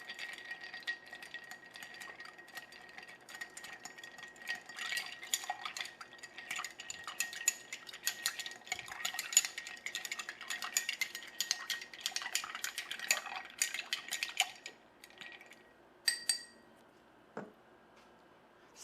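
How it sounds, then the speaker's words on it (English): Ice and a spoon clink and rattle in a glass while a blue cocktail is stirred, a busy run of light metallic ticks and knocks that thins out into a few isolated clinks at the end. "Add some ice."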